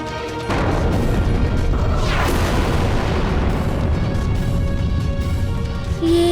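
A huge volcanic eruption in a mythological TV drama booms out as one loud crash, followed by a steady, dense roar of rumbling and debris that holds at full strength for several seconds, with no speech.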